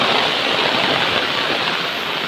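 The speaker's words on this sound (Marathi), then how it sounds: "हा रस्त्यावरनं पाणी बघा किती येतो." Heavy rainwater rushes along a road during a Konkan downpour, a steady broadband wash of flowing water and rain that holds continuous and loud throughout, with no voices.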